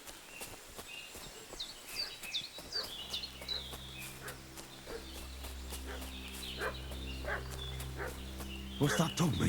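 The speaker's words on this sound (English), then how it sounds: "What's that dog making such a fuss about?" In Kingdom Come: Deliverance II, a dog barks and yips repeatedly in short bursts with a sustained musical drone underneath, and game voices and ambience run throughout.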